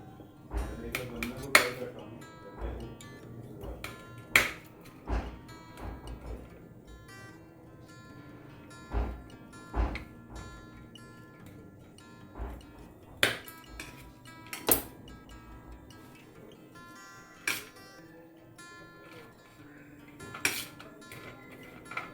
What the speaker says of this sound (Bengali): আমি আলমন্ডকে ছোটো ছোটো করে স্লাইস করে নিচ্ছি